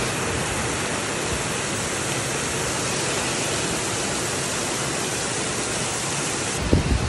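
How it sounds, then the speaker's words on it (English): Water rushing across a flooded, waterlogged farm field, a steady broadband roar that holds at the same level throughout, with a brief knock near the end. "Look at it, it's like a river over there."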